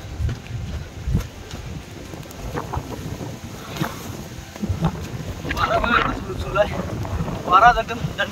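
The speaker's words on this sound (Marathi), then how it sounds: "वारा दणकट सुटलाय." Strong monsoon wind buffets the microphone on a solo trek to Sondai fort, a continuous rushing roar with low gusty rumble that swells and surges toward the end.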